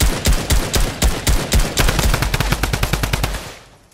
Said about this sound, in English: That's a drum gun.